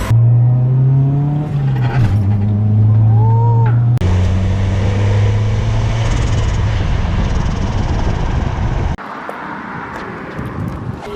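A turbocharged Honda Civic hatchback revs and pulls hard, the engine note rising loud and close before a shift and a second climb, then dropping off to a quieter roll.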